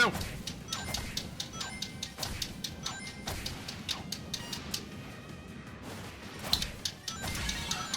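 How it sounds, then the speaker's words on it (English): Pots being smashed in a Link minigame during a Sonic video game session, a rapid run of sharp cracking and clattering hits repeating over steady game background sound. "Smashing the pots like this is a Link minigame."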